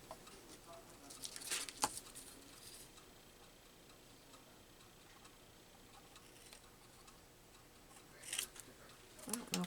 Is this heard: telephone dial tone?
no